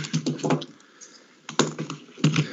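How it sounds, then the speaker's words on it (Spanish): Computer keyboard being adjusted and typed on during a MATLAB signals-and-systems class, heard as three clusters of quick, close, moderately loud key clacks separated by short pauses. "ahora déjenme acomodar acá mi teclado"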